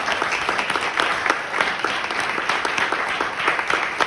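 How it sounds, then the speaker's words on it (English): Sustained audience applause after a keynote talk, a steady wash of many hands clapping at even loudness throughout, with no voices over it. "Do you want to just give an applause?"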